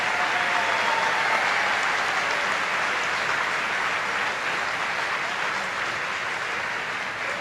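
A high school graduation audience claps for honored students in steady, loud applause that fills a large hall and holds evenly for several seconds, many hands blending into a continuous wash.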